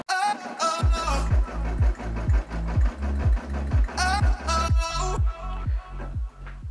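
A Brother SE600 embroidery machine stitching a patch, running in a loud, steady rhythmic chatter with regular needle strokes and brief pauses between stitch runs.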